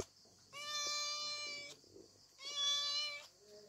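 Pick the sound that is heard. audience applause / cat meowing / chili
cat meowing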